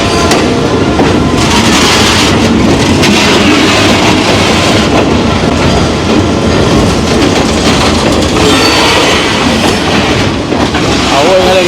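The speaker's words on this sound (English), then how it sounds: "Good old Jamaica train." In Jamaica, a train rumbles steadily past at close range, its wagons clattering over the rail joints in a loud, unbroken stream of clacks and rolling noise that lasts the whole stretch.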